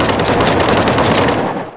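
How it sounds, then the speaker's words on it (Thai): Rapid automatic gunfire in the survival game TheFront, a loud continuous burst of overlapping shots that cuts off near the end. "ใครยิงปืน"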